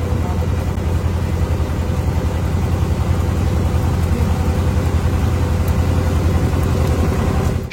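A trawler boat's engine runs steadily in the rain, a loud, close, unbroken low throb under a constant wash of hiss.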